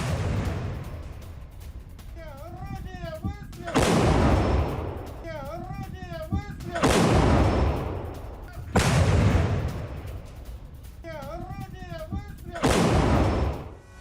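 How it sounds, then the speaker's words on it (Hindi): Russian artillery shelling at Avdiivka, with loud repeated blasts arriving in a rough rhythm every few seconds, interleaved with chirping and crackling sounds between the impacts. "अवदिव्का में रूसी आर्टिलरी का बड़ा एक्शन देखने को मिला"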